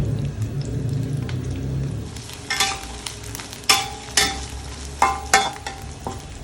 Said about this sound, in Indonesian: Goreng bumbu dulu.